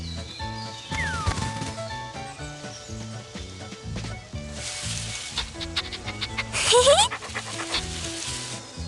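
A dog pants rhythmically in a park, close and steady under a busy layer of background music and effects.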